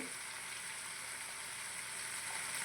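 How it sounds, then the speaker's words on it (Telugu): Oil sizzles steadily in a pan as chili powder and salt are fried for a drumstick and dried fish curry. The frying is a continuous, even hiss with no pauses. "బాగా వేయించుకోవాలన్నమాట ఇందులోనే మనం కారం వేసేసుకుందాము"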